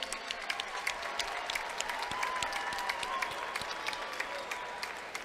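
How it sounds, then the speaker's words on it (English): An audience at an MMA fight event applauds the two fighters after the bout, a dense, steady patter of many hands clapping with scattered sharper claps and faint crowd noise. "how about a round of applause for these two combatants here tonight?"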